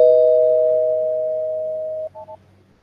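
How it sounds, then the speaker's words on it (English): A single electronic bell tone used as a spoiler-alert sound effect rings out clear and sustained for about two seconds, slowly fading, then ends with two quick short chimes, with no talk over it. "Let me ring the spoiler bell so we can speak a little bit in detail"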